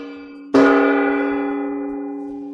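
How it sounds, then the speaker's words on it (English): A catfish gong is struck once and sounds a loud, sustained metallic tone that decays slowly over a couple of seconds, with a faint low hum beneath it and no talking. "We need the gong."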